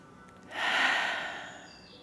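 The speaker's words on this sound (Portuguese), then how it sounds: "Faz uma respiração bem profunda e solta lá pela boca" A single deep breath pushed out through the mouth during a calming yoga class, a soft airy rush that swells and fades over about a second and a half, close and quiet with no talking.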